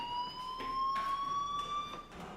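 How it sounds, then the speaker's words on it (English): A school fire alarm in the video game Life is Strange rings as a steady, fairly faint electronic tone. It holds its pitch throughout and is pulsed by periodic soft bursts, with no voices. "Hey, do you hear that fire alarm? That means you should be outside."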